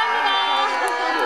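Fans on their feet roaring and cheering at an outdoor Gimpo Citizens' Day peace concert broadcast live, a dense, loud, continuous crowd shout with no gaps.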